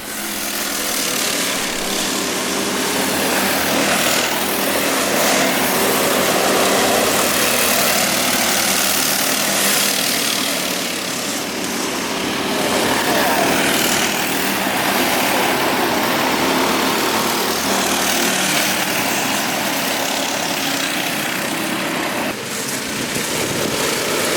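A stock 6.5 horsepower engine on a backyard go kart roars loud and steady at close range during a heat race, its throttle surging slightly with no voices over it.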